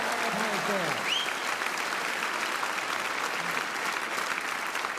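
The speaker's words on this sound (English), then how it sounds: "a round of applause for Penny." A studio audience at a comedy quiz show breaks into steady, moderately loud applause that continues throughout, with a brief voice sounding near the start.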